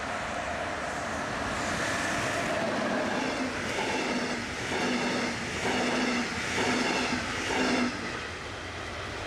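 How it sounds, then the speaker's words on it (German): A regional express train bound for Fürstenwalde and Frankfurt (Oder) rushes steadily past a level crossing in Erkner, with a broad rumbling roar and faint, rhythmic wheel clatter over several seconds. "Das war der Regionalexpress, der nach Fürstenwalde bzw. Frankfurt-Oder fährt."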